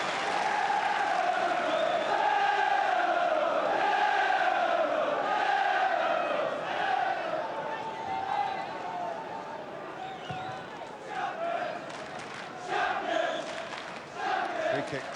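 Football crowd at a Liverpool v Norwich match in the late 1980s, with home and away fans applauding generously, a broad, steady roar of clapping and crowd noise that fades slightly toward the end.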